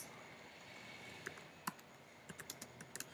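Quiet typing on a computer keyboard while writing HTML, starting with a faint hum and a couple of isolated clicks, then a short run of soft, irregular keystrokes near the microphone.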